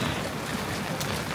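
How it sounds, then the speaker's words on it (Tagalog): Rain falling on a Tokyo street, a dense steady hiss of drops close by, with no voices. "Kahit umuulan."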